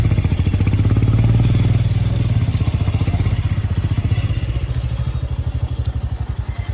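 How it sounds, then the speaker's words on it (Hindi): A motorcycle idles with a steady, throbbing engine pulse, close and loud, as it is parked outside Diskit Monastery in the Nubra Valley, Ladakh. "बाइक को पार्क करते हैं।"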